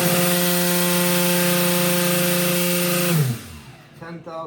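A small RC motor spins a 7-inch three-bladed folding propeller during a thrust and RPM test, giving a loud, steady high-pitched whine with strong harmonics that drops sharply and winds down near the end.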